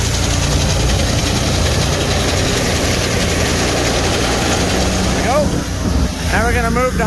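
Grain truck motor running while hauling grain to a terminal: a steady, loud low engine rumble throughout, with a brief squeal or whine near the end.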